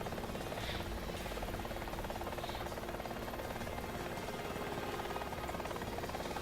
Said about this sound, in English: you can always use the helicopter to fight the Queen itself,